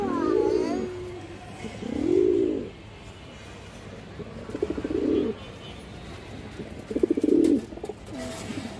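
A pair of large flying pigeons, pure-bred breeding birds, coos in four rounded, throaty bursts spaced about two seconds apart. The calls are close and moderately loud over a faint background hum.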